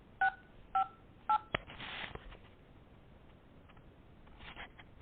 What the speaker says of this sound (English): I'm going to call my voicemail